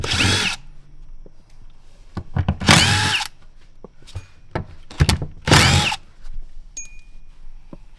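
A 10 mm bit in a power drill cuts into plastic while an E85 flex-fuel kit is fitted. It runs in several loud, short bursts with quiet pauses and thunks between them.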